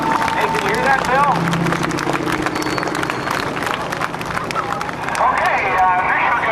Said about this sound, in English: how about a nice round of applause for the man from Dayton, Ohio?